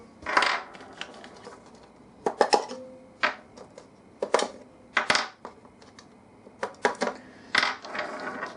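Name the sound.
rechargeable batteries being peeled out of an RC transmitter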